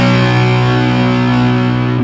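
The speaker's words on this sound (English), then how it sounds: "if we weren't touching the strings at all, it would sound like this" An unmuted, heavily distorted electric guitar power chord rings out loud and steady for about two seconds, sustained and thick with effects, shifting slightly in pitch near the end, with nobody talking.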